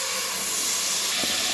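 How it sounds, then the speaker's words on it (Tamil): Ground mango puree poured into hot ghee for mango halwa, giving a steady, close hiss of sizzling that runs unbroken, with a brief soft bump near the end. "அரைச்சி வச்ச மாம்பழத்தை அதை ஊற்றிடலாம்"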